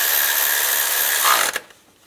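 Bolts being tightened on a 2005-2007 Ford Five Hundred during oil pressure sensor replacement: a loud, continuous whirring power-tool run that cuts off abruptly near the end, with no speech.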